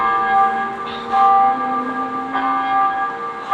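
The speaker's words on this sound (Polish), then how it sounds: "dzwony biją. Jak skończą, dopiero jak skończą, kończymy ćwiczenie." Church bells in Warsaw ring with a steady metallic clang, strokes overlapping into a sustained ringing hum that swells and fades, loud and close, with no voices.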